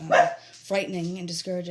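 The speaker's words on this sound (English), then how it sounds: "I do apologize if you hear dogs in the background." Service dogs bark in a back room, a sharp bark or two heard under a close voice speaking over a phone line.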